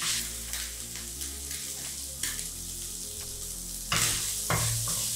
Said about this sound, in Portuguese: o bacon já tá ficando douradinho, já tá pegando aqui no fundo da minha frigideira